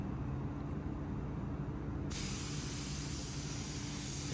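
A spray gun hisses continuously as paint goes onto a car fender flare taped down to a table in a body shop. The hiss is loud and steady and grows brighter partway through.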